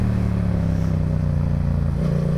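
A motorcycle engine revs hard during a wheelie with the clutch slipping, giving a loud, close, steady droning roar with a slight rise in pitch toward the end.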